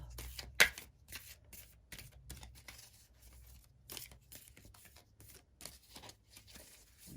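Halloween Oracle cards being shuffled during a pick-a-card reading, giving a steady run of quick papery riffles and slaps with one sharper snap near the start, fairly close and alone.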